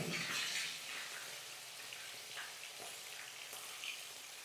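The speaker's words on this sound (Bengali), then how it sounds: "এবার এই পিঠটা পুরোপুরি মাছটা ভেজে নেবো" Bata fish frying in a hot pan over a medium gas flame, a bright crackling sizzle that is loudest at first and then settles into a softer, steady spitting hiss, with no talking.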